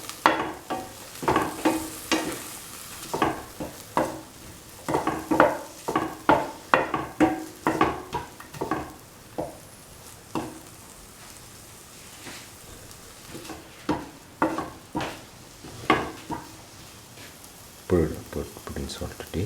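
Red spinach rice is sautéed in a pan, with a soft background sizzle and a run of clattering stirring scrapes and taps in uneven bursts, some close together and some spaced apart.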